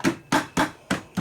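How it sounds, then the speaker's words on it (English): Five sharp hammer strikes on metal parts of a Dayton 240V 7-1/2 hp air compressor motor during a shop repair, evenly spaced, loud and close. "It says do not hit with a hammer."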